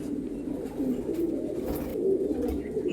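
Male pigeons coo in low, murmuring calls that overlap in a steady, close, continuous drone.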